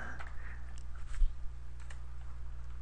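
Faint, quick clicking of fingers typing on a computer keyboard, a few scattered keystrokes against a steady low background hum, with no one talking.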